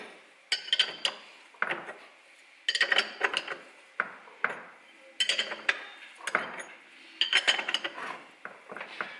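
Metal tools clinking and ratcheting in bursts while a puller is wound on to draw a Lambretta Mugello 200 lay shaft into the engine casing. The clicks and clanks come close and fairly loud in repeated clusters with short pauses, and no talk.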